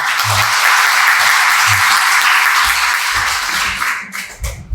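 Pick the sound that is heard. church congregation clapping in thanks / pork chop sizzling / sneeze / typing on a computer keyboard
church congregation clapping in thanks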